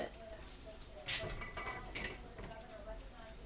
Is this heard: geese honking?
no